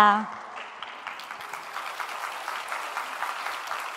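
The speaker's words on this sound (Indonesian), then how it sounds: "Tepuk tangan dulu kakak-kakak semua." An audience at a corporate finance talk breaks into applause just after a brief voice, keeping up an even, moderately loud patter of clapping.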